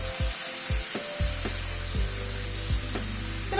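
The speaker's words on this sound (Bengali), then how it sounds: "টমেটোটাকে দিয়ে আবার একটুখানি কষিয়ে নিচ্ছি।" Tomato paste fries in a pan with ginger and green chili, a steady loud sizzle running throughout, broken by a few scraping stirs of a spoon near the start.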